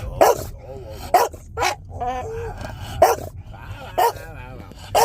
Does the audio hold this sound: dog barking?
yes